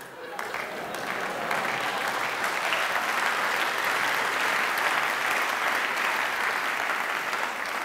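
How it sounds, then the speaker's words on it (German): Sustained audience applause at a Pride (CSD) gala show in Stuttgart, steady and dense clapping from a large crowd, building slightly and holding throughout. "Also entweder klatscht alle oder gar nicht."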